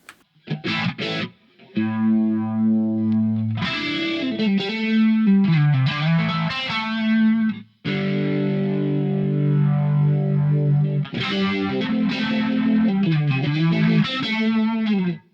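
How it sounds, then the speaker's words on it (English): Electric guitar riffs and sustained chords drenched in a swirling, pulsing Univibe modulation effect from a TC Electronic PlethoraX1 pedal, with some grit, loud and close, no talking. "this is a tone print of a Univibe"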